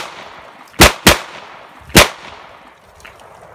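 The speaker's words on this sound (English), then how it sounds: "let's pop off some rounds. First full mag Tula" A SAR9 pistol fires Tula ammunition at a 15-foot range: three sharp, loud shots ring out alone, two close together and a third after a short gap, each with a brief decaying tail.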